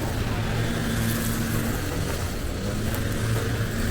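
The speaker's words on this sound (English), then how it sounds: "Sorry for the noise, there's some grass cutters here." Grass cutters running nearby on a trail at Iguazu Falls, Brazil, a steady loud engine drone with a constant rough buzz and no pauses.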